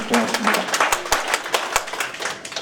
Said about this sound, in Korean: 박수 치세요. 박수 끝날 때까지 좀 쉬고 있겠습니다